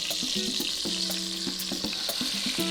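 Browned chicken pieces for coq au vin sizzle steadily in a hot pan, a dense continuous crackle with small pops and light clinks, close and with no talking.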